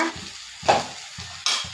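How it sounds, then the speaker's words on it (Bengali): Bitter gourd and onions fry in oil in a pan, with bursts of sizzling and regular scraping strokes from stirring, roughly every half second, close and moderately loud. "এখন আমার উস্তা ভাজাটা হয়ে গেছে"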